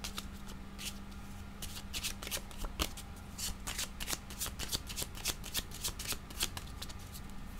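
Cards shuffled by hand for a card reading, a close, steady run of crisp riffling bursts in quick rhythm, fairly quiet and heard alone without talk.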